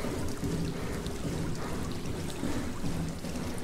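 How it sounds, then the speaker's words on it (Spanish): Flowing underwater current in the game SOMA, a soft continuous rushing wash with low rumble, steady and fairly quiet throughout. "quiero ver a dónde me lleva esta corriente de agua"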